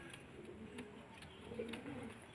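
Pigeons cooing during training, soft low throaty coos that repeat unevenly over a constant background hiss, faint and a little distant, with no voices.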